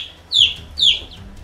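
A pet chicken gives two loud, close, squawking clucks about half a second apart, then goes quiet.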